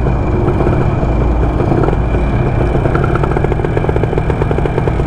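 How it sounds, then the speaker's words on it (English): A Yamaha 125ZR motorcycle with a racing-spec 62 engine and chamber-style racing exhaust runs on a dyno, its loud, steady engine roar holding close and continuous with a rapid rattling pulse throughout. "Exhaust pun terus bunyi macam chamber eh."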